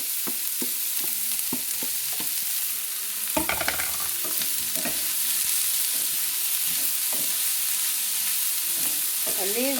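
Chopped onions sizzle and fry in a pot with browned stew meat for posole, a constant loud crackle with scattered knocks and scraping as they are stirred.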